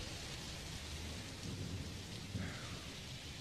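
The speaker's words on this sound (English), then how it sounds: "Love that heavy rain." Heavy rain pours steadily with rumbling thunder from the storm recording in a song, a dense continuous hiss with low rolls swelling near the middle.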